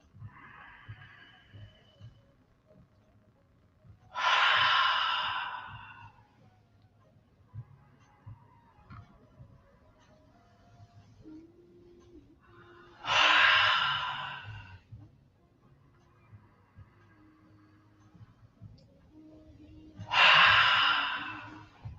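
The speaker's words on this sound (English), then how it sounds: "as you breathe out through the mouth, say, see, full breath out. Now take a deep breath in" Deep breathing exercise: three long, loud breaths out through the mouth, each lasting about two seconds and spaced several seconds apart, close to the listener with quiet pauses between and no talk.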